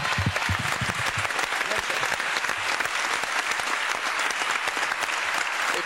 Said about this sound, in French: que j'aimerais bien que vous applaudissiez,